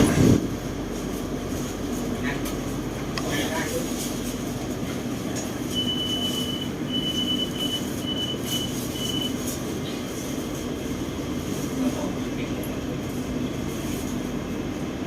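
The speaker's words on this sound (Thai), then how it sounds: "ขบวนรถออกแล้วนะฮะ" SRT Red Line electric commuter train pulling away from the platform on the Rangsit to Krung Thep Aphiwat route, a steady loud rumble of wheels and motors with a sustained high squeal in the middle, heard from on board.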